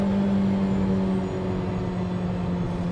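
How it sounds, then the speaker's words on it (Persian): An X22 Pro car engine pulls at full throttle in second gear, a steady droning hum with a strong low tone heard from inside the cabin, constant and fairly loud with no talking. "حالا روی دنده 2 هستیم، تخت گاز میخوایم ببینیم چقدر صدا داریم"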